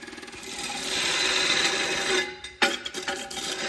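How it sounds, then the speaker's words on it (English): An angle grinder grinds down the edges of a Honda K24 engine mount, a sustained rasping whine that cuts out briefly and then resumes with a sharp, jagged burst. "So here Pat is just grinding down the edges."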